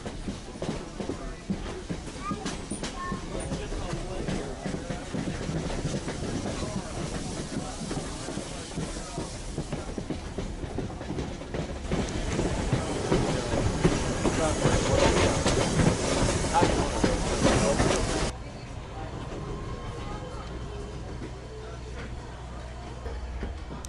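Locomotive 611 on the Strasburg line moves alongside its train with a steady rumble, hiss and clicking wheels that swell before cutting to a quieter stretch, heard from fairly close.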